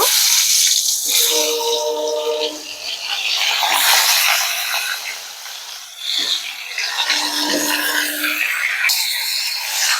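Green mango pieces go into hot oil with fried whole spices for a sweet-sour-spicy pickle, giving a loud, broad sizzle and crackle that rises, dips briefly, then swells again, with some scraping and stirring noises mixed in.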